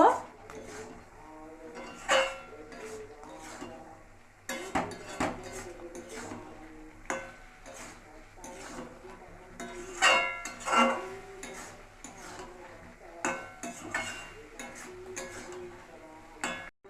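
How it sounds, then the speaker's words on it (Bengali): Boiled potatoes and shrimp are stirred in a pan during traditional home cooking, with repeated metallic clinks and scraping of a utensil against the pan; a few louder knocks stand out over steady background kitchen noise. "আলু সিদ্ধ দিয়ে আবার একটু কষা করব"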